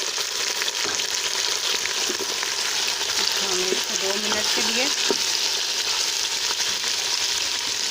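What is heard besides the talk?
chicken with onions frying and stirred in a pan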